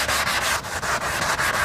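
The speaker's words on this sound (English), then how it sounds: "You can take and you start sanding with it." A PaintFX Soft Sander block rubs back and forth over a surface, giving loud, steady rhythmic sanding strokes about five times a second, alone and close.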